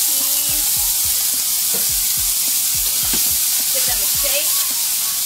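Mushrooms, artichoke and chickpeas sizzle loudly in smoking-hot olive oil, a close, continuous frying hiss dotted with sharp pops and spatters.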